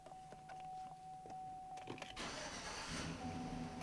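A Chevrolet Silverado pickup's engine cranks and catches after a few interior clicks and a steady chime, then settles into a loud, continuous idle.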